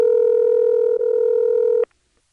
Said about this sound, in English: it has two ringing machines